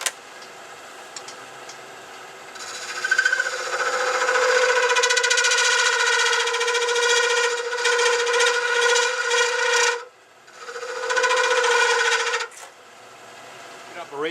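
Metal lathe turning a ring groove into a part with a 12mm carbide tool, a steady whining cut with bright ringing overtones that runs for several seconds, breaks off briefly, then resumes before stopping.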